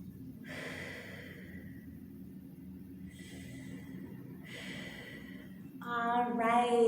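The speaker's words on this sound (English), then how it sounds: "Let's take about 3 deep breaths here as we relax those hips" Slow deep breaths during a Pilates flow: three long airy inhales and exhales, soft and close, with a faint low room hum beneath, then a voice starts speaking at the end.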